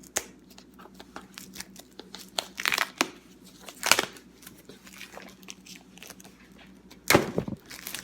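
Polygel nail kit box packaging is being opened up close with fingers, giving scattered crinkles, scrapes and a few sharp tearing bursts between quieter handling.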